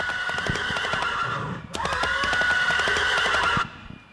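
Horse neighing loudly up close as a storytelling sound effect, a long shrill whinny that breaks briefly and resumes before cutting off.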